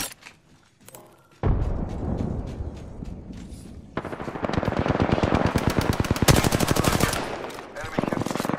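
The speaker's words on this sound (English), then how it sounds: "Darn shots fired and they're hitting me." Automatic weapon fire from an Apex Legends match rattles in long rapid bursts after a quiet opening, loud and close, with sharp single cracks and dense volleys running almost to the end.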